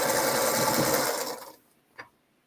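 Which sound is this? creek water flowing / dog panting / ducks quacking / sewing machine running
sewing machine running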